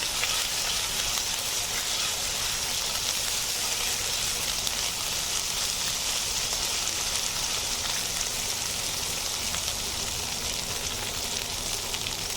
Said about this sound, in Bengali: আদা রসুন বাটাটা দিয়ে আমি জাস্ট 1 মিনিট মতো একটু ভেজে নেব